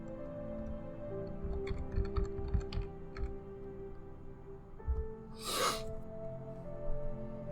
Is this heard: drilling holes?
no